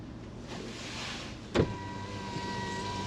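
A vehicle engine idles steadily with a low continuous hum, parked near Eselbank Waterfall in the Cederberg after the 2023 floods, with one brief mechanical thump partway through and no talking.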